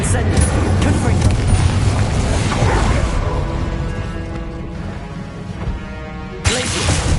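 Fiery blast of a Confringo spell in Hogwarts Legacy, a booming explosion layered with whooshing game effects over a dense, continuous background, with a sharp new burst near the end.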